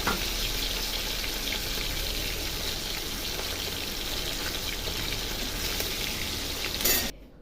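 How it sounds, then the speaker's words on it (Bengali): Tilapia fish pieces frying in hot oil give a steady, close crackling hiss that runs unbroken for several seconds, then cuts off abruptly near the end. "ভালো করে ভেজে নিই মাছগুলো"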